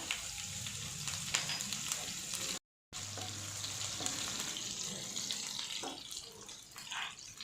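Green chillies frying in a pan over a medium gas flame for a radish chutney, giving a steady, close sizzle with faint watery bubbling and a brief dropout partway through.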